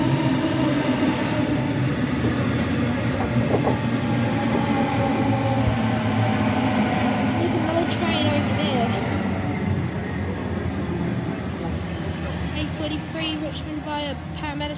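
A passenger train rumbles steadily through Harris Park station without stopping, with a rushing, rattling roar and faint wheel squeals, never slowing, the noise easing slightly toward the end.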